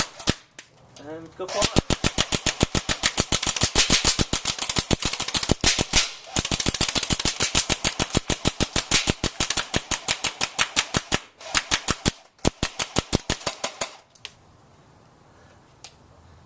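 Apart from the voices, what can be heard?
airsoft gun firing single shots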